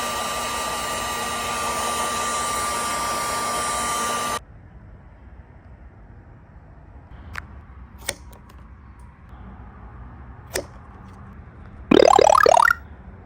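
A heat gun blows steadily and loudly for about four seconds while shrinking heat shrink tubing over re-glued spacers in LED C-tail lights for a 2000–2006 Chevrolet Tahoe, then cuts off, leaving a quiet room with a few clicks and a brief burst near the end.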